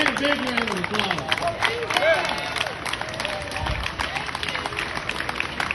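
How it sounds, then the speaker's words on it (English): Crowd at an outdoor liberty rally applauding and clapping with scattered cheers and murmuring voices, a steady wash of sound throughout. "Give that man a big round of applause."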